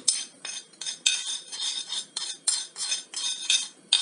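Flour and cocoa being mixed for a soufflé, a utensil scraping and clinking rhythmically against a bowl in quick repeated strokes, close and alone.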